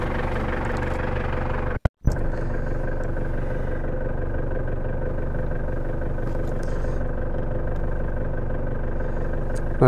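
A car engine catches after a brief silent cut and settles into a steady, loud, close idle hum that runs evenly to the end.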